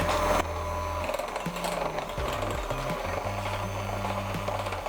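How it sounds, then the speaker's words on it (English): An electric mixer runs on low, churning chocolate sponge cake batter with a steady, continuous motor whir that shifts pitch slightly as it works, close and loud with no talking. "Then you want to turn your mixer to low and just mix until almost combined."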